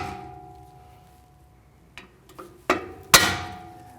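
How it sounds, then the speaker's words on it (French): A hammer taps a screwdriver to seat an aluminium spacer during a railing and ramp installation: a few light metallic knocks of increasing strength, ending in one sharp, ringing strike that decays, close and alone. "avec un tournevis et un marteau, venir s'accoter et donner un petit coup comme ça pour le rentrer bien en place"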